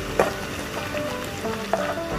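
Garlic sizzles in a hot pan while it is stirred, a close, steady crackling fry broken by two sharp scrape-and-clatter moments of the utensil against the pan, with no voices.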